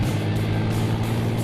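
A scrapheap-built racer's engine drones loud and steady at high revs, a continuous low throbbing roar with no voices over it.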